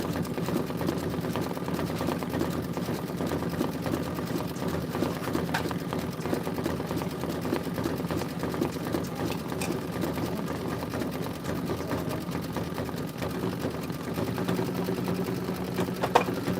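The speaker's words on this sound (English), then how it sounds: "I'm just going to start sewing them all together, pressing them open and sewing them together to make my back" A sewing machine stitches quilt pieces together for a quilt back, running continuously at a quiet, even, rapid rhythm with no voices over it.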